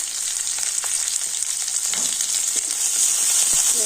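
Onion, whole cumin seeds and green chillies fry in mustard oil, a steady dense sizzle filling the clip with faint scraping stirs, loud and close with no talk.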